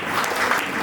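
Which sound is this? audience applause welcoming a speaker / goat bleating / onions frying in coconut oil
audience applause welcoming a speaker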